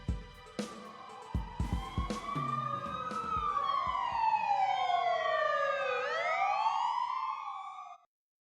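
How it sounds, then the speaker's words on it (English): A police siren wails in the Ace Attorney: Dual Destinies video game, several overlapping rising and falling tones that start after a few sharp clicks, then sustain loudly before cutting off abruptly. "That's the sound of the police."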